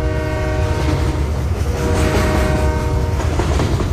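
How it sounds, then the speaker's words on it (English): A train sound effect fired as a QLab audio cue, with steady rumbling rolling stock, rhythmic clatter and sustained horn-like tones, loud and continuous throughout with no talking. "I can hit go to start the train sounds."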